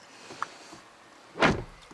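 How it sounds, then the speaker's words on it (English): A 2016 Mazda CX-9 door shuts with a single solid, muffled thud after a brief quiet click, recorded close by with faint background hiss. "really solid sounding doors"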